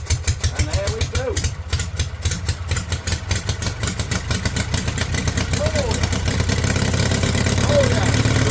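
An old generator engine runs after a choked start, chugging in a rapid, uneven loud pulse that steadies into a continuous throb, with someone speaking briefly over it.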